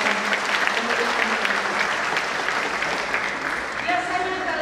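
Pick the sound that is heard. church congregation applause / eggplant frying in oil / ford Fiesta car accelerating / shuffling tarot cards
church congregation applause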